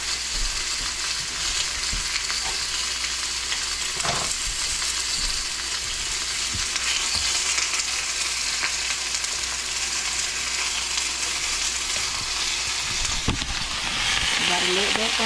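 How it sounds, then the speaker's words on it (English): Beef frying in a pan for a stir fry, a continuous loud sizzle with occasional scraping and stirring clatter, no talk heard. "about to put this beef up in the other pan"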